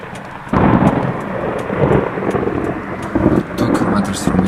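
Close lightning strike in a Florida storm, loud thunder cracks at about half a second and rumbles on through the clip with renewed booms near three seconds, steady rain hissing beneath.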